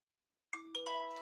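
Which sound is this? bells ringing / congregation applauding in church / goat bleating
bells ringing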